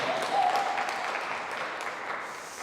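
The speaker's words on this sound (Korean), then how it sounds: "우리 영광의 박수 한번 올리겠습니다." A church congregation at a Korean Sunday service applauds, a steady, fairly soft wash of many hands clapping that holds evenly through the whole stretch, slightly distant, with no talk over it.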